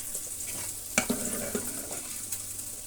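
Onion fries in plenty of oil with crackling mustard seed tempering, giving a soft continuous sizzle with a few sharp spoon clicks against the pan, close and fairly quiet.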